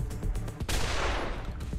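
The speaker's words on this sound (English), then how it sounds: "The explosion happened though, which is the fun part." Explosion in the video game Wasteland 2, a sharp burst of blasts with crackling noisy bursts around it, short and moderately loud.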